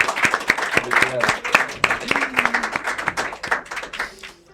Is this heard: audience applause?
yes